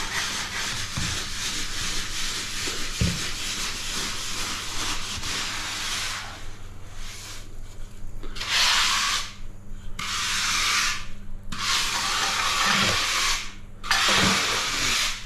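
Wooden float rubbed over mortar to form a shower floor fall, a close, loud gritty scraping that turns into distinct back-and-forth strokes in bursts, with occasional knocks, no talking.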